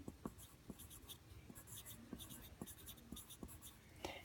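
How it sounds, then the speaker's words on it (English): A pencil scratches across paper in short repeated strokes, writing a name on the back of a grid drawing sheet; close, faint and rhythmic with no talking. "flip your paper over and write your name"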